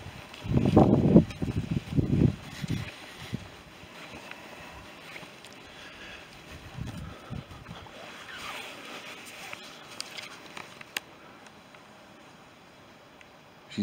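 Strong gusting wind from a storm buffets a wild camp in blustery weather. Heavy rumbling bursts come at the start, then a steady loud roar with rustling flaps.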